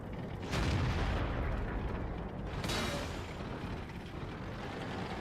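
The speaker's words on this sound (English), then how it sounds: "And then we can see the artillery shells just missing the Carnarvon." Artillery shells burst near a Centurion tank in World of Tanks, two heavy booms a couple of seconds apart rolling over a constant rumbling battlefield din.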